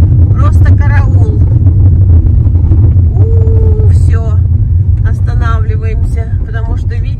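A car drives over a road under repair, its engine giving a steady low rumble close by inside the cabin, while someone talks over it.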